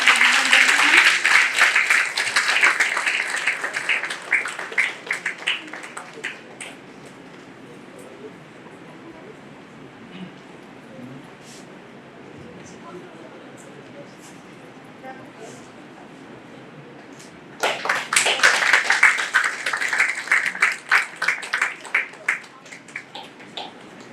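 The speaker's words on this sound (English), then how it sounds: "A huge round of applause." Audience applause fills a university conference hall, a loud burst of clapping for about six seconds that dies down to murmuring room noise, then swells again into a second strong round near the end.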